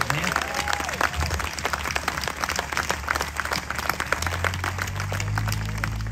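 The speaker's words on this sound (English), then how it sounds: "Why don't we have the biggest round of applause of the night in honor of our Lord and Savior, Jesus Christ." A church audience at a gospel quartet concert bursts into sustained, energetic applause throughout, thick overlapping clapping with some crowd noise and a low instrumental hum underneath.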